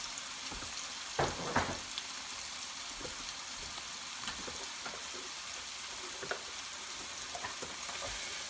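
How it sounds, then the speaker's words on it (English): Flour being stirred in a hot frying pan for garlic parmesan chicken gives a constant close sizzle, with occasional scraping strokes of the utensil against the pan and no talking. "you want to stir it for a minute or two because you want to cook the flour taste"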